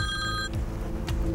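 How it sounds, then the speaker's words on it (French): A phone gives a short, bright electronic ring for an incoming call, about half a second long, then cuts off into steady low background noise. "je reçois présentement un appel de Pierre-Philippe."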